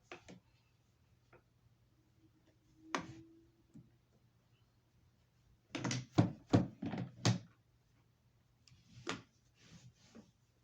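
Quiet wooden knocks and thumps from a rigid heddle loom during weaving, with a quick cluster of clattering taps in the middle over a faint steady hum.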